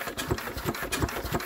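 A big twin-cylinder diesel stationary engine cranks over, a rhythmic, chugging series of four or five heavy compression beats at close range with a rattling mechanical undertone.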